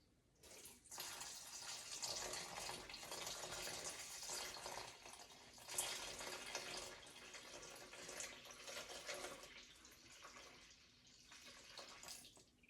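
For sourdough, warm purified water is poured into a bowl in a kitchen as one steady stream lasting about twelve seconds, close and fairly quiet, with no talking.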